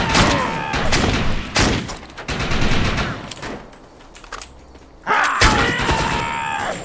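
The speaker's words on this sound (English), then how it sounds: "Yeah, that's a rifle." Rifle shots in the shooter Defiance 2050, sharp loud cracks in quick bursts, then a quieter lull before another burst of gunfire close by.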